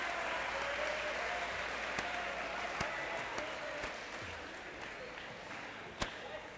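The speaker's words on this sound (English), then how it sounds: "Please give these two beautiful people a round of applause." An audience at a school suicide awareness talk claps steadily and continuously, a dense wash of applause from a crowd in a hall, with a few sharper individual claps standing out.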